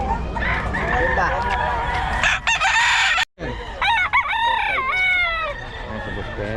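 A young gamecock rooster crows several times nearby in a rural yard, with people talking over and between the calls and a dog barking faintly.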